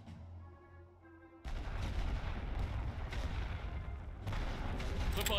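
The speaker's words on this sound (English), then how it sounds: "Préparez un barrage total." Artillery barrage in the World War I game The Great War: Western Front, a sudden loud, sustained roar of dense booming fire after a quiet start, surging again near the end.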